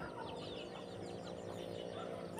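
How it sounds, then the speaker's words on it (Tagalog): Young chicks on an organic farm peep in quick, high chirps that repeat across the clip over a low background hum, soft and fairly distant with no talk. "Ayan po ang mga sisiyo ng ating manok."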